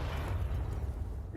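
A grenade explosion in Counter-Strike 2 during a BLAST Bounty 2026 match, heard as a sustained low, rumbling boom that fills the short moment steadily at moderate loudness, with no voices over it.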